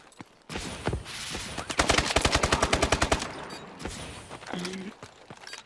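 Rapid automatic gunfire in a video game, a long burst of loud evenly spaced shots preceded by scattered single shots and followed by a few more, with a voice briefly heard near the end.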